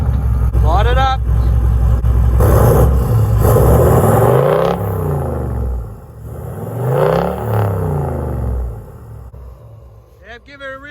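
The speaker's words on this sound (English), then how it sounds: "Give her a few good revs" A car engine with blue smoke from the exhaust is revved hard several times. Rising and falling roars sit under steady, loud talk from men nearby.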